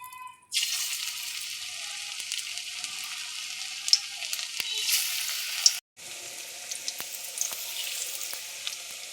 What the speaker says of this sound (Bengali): এখানে তেল গরম হয়ে গেছে,